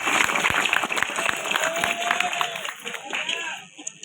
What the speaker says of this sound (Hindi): एक बार जोरदार तालियां दोनों के लिए